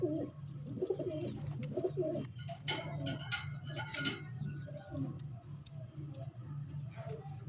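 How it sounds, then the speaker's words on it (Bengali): Kept pigeons in a loft coo softly and repeatedly, their low murmuring calls overlapping with faint ticking and fluttering sounds nearby. "এগুলো সারের কবুতর নাকি?"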